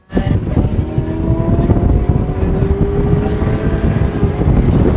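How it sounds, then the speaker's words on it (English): A Lamborghini Aventador drives past with a loud, steady engine roar that rises slightly in pitch, heavily mixed with wind buffeting on the microphone and no speech. "Here comes an Aventador, this is our backup."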